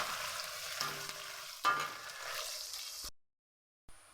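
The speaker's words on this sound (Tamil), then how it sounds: "ப்ரௌன் கலர் ஆகிற வரைக்கும் வதக்கிக்கணும் கருவேப்பிலை போட்டுக்கணும்" Curry leaves sautéing in a pan until brown for a bitter gourd and broad bean kara curry, a steady close sizzle with a few stirring scrapes, cutting off abruptly near the end.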